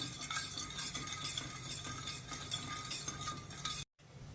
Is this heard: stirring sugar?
yes